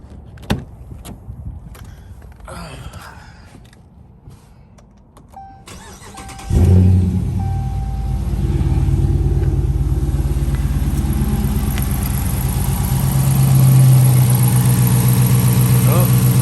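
Quiet clicks and rustling, then a Dodge Charger R/T engine fitted with a JLT cold air intake cranks and starts loud and close, settling into a deep steady idle with a slight rev later.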